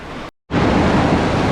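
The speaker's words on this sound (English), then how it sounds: "There's the sea." Sea waves wash steadily onto the shore at Lyme Regis, a loud, continuous surf roar that breaks off briefly near the start and then returns in full.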